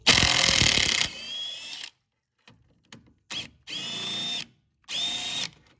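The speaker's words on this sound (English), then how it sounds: "now that it's that hot, you should be able to back it off with the impact tool" An impact wrench backs off a heated sway bar link nut on a Chevy Impala: one long, loud rattling burst, then several shorter whirring bursts separated by silent gaps.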